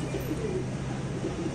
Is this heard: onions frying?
no